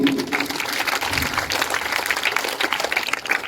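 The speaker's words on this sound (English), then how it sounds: "So clap for Mahi also." Students applaud at a school assembly, producing a continuous, even patter of clapping from many hands at moderate volume, with no clear pauses throughout.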